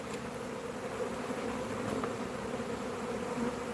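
Honeybees buzzing steadily around newly introduced hives in Vermillion, Ohio, a continuous low drone of many insects, fairly faint with no talking.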